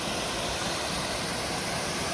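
Long Creek Falls on a hiking trail, a steady, broad rush of falling water filling the whole clip evenly and fairly close, with no voices over it.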